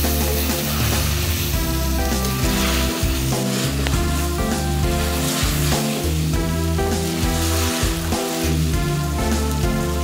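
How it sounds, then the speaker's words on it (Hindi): Fried okra and fried onions are stirred into a sizzling meat masala for Sindhi bhindi gosht, giving a loud, steady frying sizzle with stirring throughout and no talk. "अब इसमें शामिल करेंगे भिंडी जो हमने फ्राई की थी, प्याज जो फ्राई किए थे वो भी डाल देंगे। अब इनको मिक्स करेंगे।"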